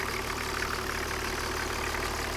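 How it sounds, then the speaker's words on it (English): A 1993 Toyota Land Cruiser 70 Series ZX diesel with over 200,000 km idles steadily, a continuous low rumble with a faint regular tick running through it and no voices. "It's a good running engine here."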